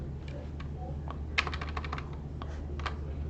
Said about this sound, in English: start typing in the name of your company until it appears